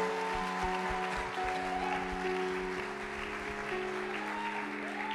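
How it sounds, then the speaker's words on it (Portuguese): Quiet audience applause at a church choir concert, a soft continuous patter of clapping that stays beneath sustained musical tones and a low hum throughout. "Dê uma linda salva de palmas"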